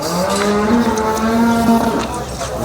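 A buffalo lows loudly and close, one long sustained call at a busy Sangola buffalo market, with crowd murmur underneath.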